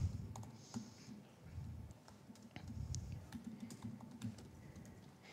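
Someone types quickly on a computer keyboard, a faint, close patter of uneven key clicks running continuously.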